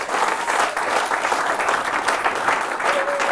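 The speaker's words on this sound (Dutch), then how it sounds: "Geef ze een groot applaus, dames en heren." An audience at an evening business event in Venray claps loudly and continuously, a dense wash of hands with no break across the short stretch.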